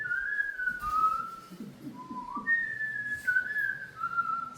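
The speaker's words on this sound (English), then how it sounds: "Maybe if I whistle our special sound" A person whistles a special signal sound in several clear, melodic rising and falling phrases, close and fairly loud, with no talking.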